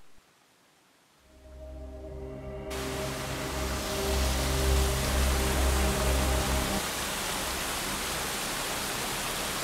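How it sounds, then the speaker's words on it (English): A waterfall on a river in the ancient Kurape kingdom becomes a loud, steady broadband rush after a quiet start, holding constant to the end with no voices. "very beautiful waterfall"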